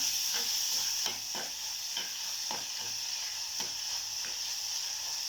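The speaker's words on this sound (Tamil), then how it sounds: "ஒரு தக்காளி பழம் சேர்த்துருக்கேங்க பழுத்து தக்காளி அதையும் நம்ம சேர்த்துக்குவோம் சேர்த்துட்டு இதை நல்லா வதக்கி எடுத்துக்கலாம்" A ripe tomato sautéing in a pan sizzles steadily and close, with regular scraping stirs that repeat roughly every half second.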